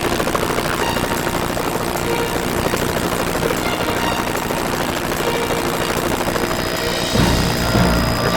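A tour helicopter flying near a glacier in Alaska roars steadily and close, its rotor and engine noise dense and unbroken throughout, with a slight shift in tone near the end.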